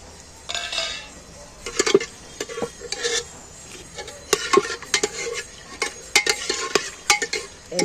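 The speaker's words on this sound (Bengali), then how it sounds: "এইবার আমি এখানে যে গোটা মশলাগুলো রেখেছি মশলাগুলো তেলের মধ্যে দিয়ে দিচ্ছি।" Whole spices fry in hot oil in a pan while a utensil stirs them, producing irregular scraping clinks and taps against the metal over a soft sizzle, close and fairly quiet.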